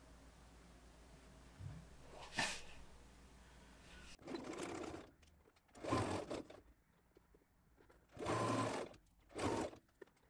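A sewing machine stitches a bodice neckline with its lining, running in four separate bursts that start and stop with pauses between them, close and fairly loud, with no talking.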